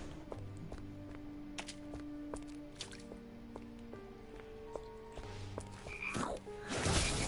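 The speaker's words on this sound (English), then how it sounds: "frog people again" Frog people croak in a dark fantasy action game, with repeated low, resonant croaks mixed with wet dripping and squishing sounds under steady background ambience, rising slightly at the end.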